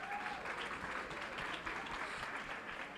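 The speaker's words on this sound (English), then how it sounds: "One more round of applause." Applause from the audience at a Fort Worth ISD school board meeting honoring high school scholars: dense, steady clapping from many hands that fills the room at moderate level and runs unbroken throughout.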